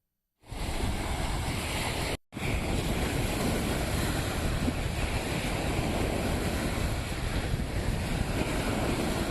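Strong coastal wind and rough, surging sea waves at Dhanushkodi near Rameshwaram, a loud continuous roar of surf and wind buffeting the microphone, briefly cut off near the start and then steady without speech.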